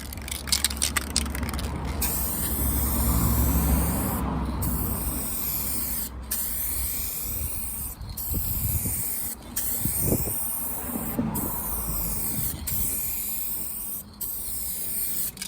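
Aerosol top coat paint sprayed onto a rusted, repaired boot lid of a Mercedes SLK R170, steady hissing bursts with short pauses between passes, close by with wind noise outdoors.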